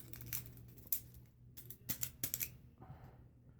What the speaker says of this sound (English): I like to use scissors and push them down a little more.